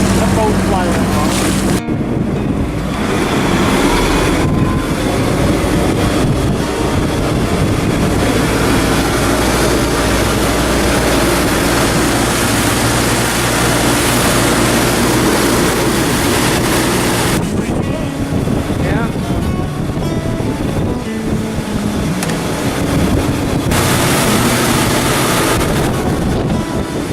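A 1975 Silverline 233 boat with a Mercruiser 302 engine speeds across the water, its motor droning under heavy wind buffeting and splashing, loud and continuous with people talking over it.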